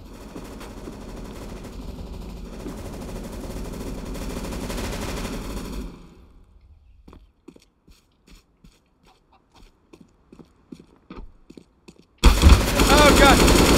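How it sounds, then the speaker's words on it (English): Machine gun fire in Counter-Strike: Global Offensive rattles in a steady stream for several seconds, gives way to scattered faint clicks and pops, then a loud burst of fire erupts near the end. "Machine gun."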